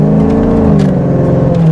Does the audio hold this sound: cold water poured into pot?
no